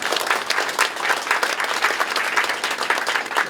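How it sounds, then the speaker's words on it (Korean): A congregation applauds steadily at a memorial hall opening thanksgiving service, welcoming family members to the front. The dense, even clapping runs loud and unbroken throughout, with no talking over it. "우리 박수로 환영하겠습니다."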